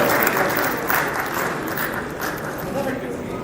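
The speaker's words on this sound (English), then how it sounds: "Big round of applause for them." Audience at a Rotary Foundation giving seminar applauds donors, a steady, full round of clapping from a sizable crowd filling the whole short stretch.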